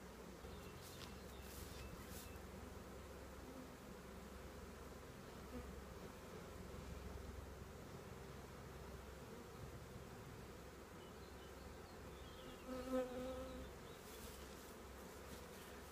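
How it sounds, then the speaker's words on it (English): A large honeybee swarm enters a hive, producing a continuous low buzzing hum of many bees, fairly faint and steady throughout with no talking. "But they're all going in. It's a huge swarm."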